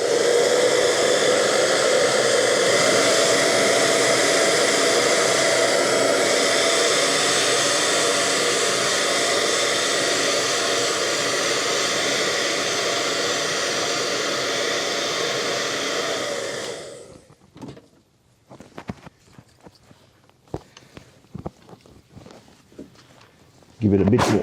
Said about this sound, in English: And perhaps throw in the hair dryer.